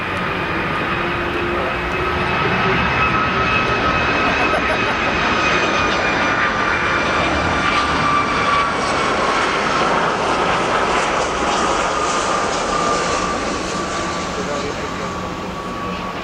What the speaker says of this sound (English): All the planes come down this side.